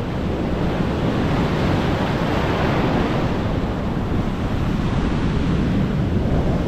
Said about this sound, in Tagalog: Alon, alon.